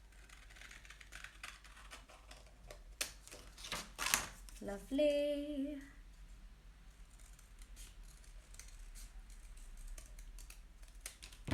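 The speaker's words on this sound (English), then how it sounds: "I'm just going to get my bigger scissors and cut out" Larger scissors snip out a shape from folded card for a plastic bottle piggy bank's pig ears, giving a quick cluster of faint, close clicks and crunches, followed by someone speaking briefly.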